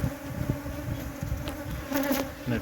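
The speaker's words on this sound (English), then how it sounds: "these bees are quite feisty" Honeybees buzz around an opened hive during a cut-out from an old tree stump, with a super of wax strips in place; a steady, fairly close droning hum fills the whole stretch, with a few individual bees passing louder near the end.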